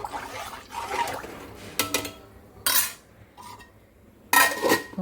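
Rice poured into a pot of nearly hot water on a home stove, heard as several distinct clattering, rattling bursts of grains and metal with quieter stirring and scraping between them, close up and without talk.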